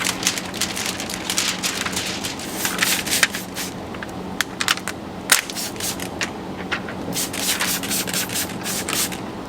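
A Torx 290 durometer squeegee pushes dish-soap solution out from under window tint film, giving soft, irregular wet rubbing and squelching strokes with small sharp clicks and drips, close and moderately loud, with no voices.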